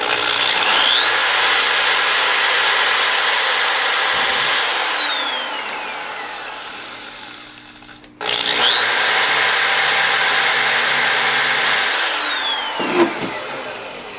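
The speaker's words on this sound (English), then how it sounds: "I'm going to hold this tightly while I screw this, or while I drill this hole" A power drill whines up to speed and holds a steady high pitch as it bores into wood, then stops and runs again for a second hole.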